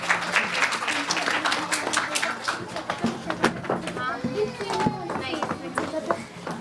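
An audience claps for a children's performance at a preschool annual day, a dense, lively round of applause with scattered sharp claps and voices mixed in.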